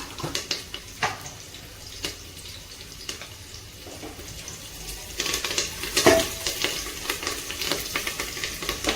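Cumin seeds frying in a pan with a steady sizzle and occasional stirring scrapes, close by; the sizzle and stirring intensify near the end, with no talking.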